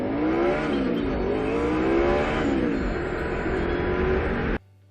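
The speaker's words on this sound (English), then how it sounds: "a guy gunning his 1979 Chevy pickup on his way to Walmart" A 1979 Chevy pickup truck accelerates hard, its engine note climbing through rising and shifting tones, loud and close for several seconds before cutting off abruptly.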